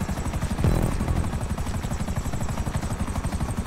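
A helicopter engine idles in the video game GTA V, with a continuous loud rotor thump in a fast even rhythm and a brief louder burst near the start.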